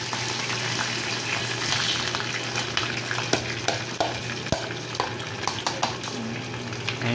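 Onion sautés in a pan with browned garlic for ginisang monggo, a steady sizzle with scraping stirs and a few sharp clinks of a utensil toward the end, close and fairly loud, no talk.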